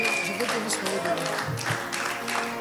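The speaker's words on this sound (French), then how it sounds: "on applaudit pour cette maman." Audience clapping for a graduating mother at a Bible school graduation ceremony, continuous applause blended with singing or chanting voices and crowd noise.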